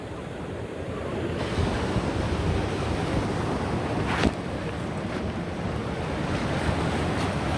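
Pacific Ocean surf washing over the La Jolla tide pools at low tide, a steady broad roar of waves with wind buffeting the microphone and one brief sharper splash midway.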